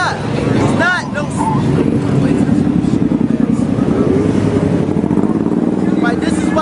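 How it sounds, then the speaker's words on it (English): A loud motorcycle engine rumbles past with a throaty, pulsing drone under someone speaking continuously over it. "Because that stupid ass motorcycle noise."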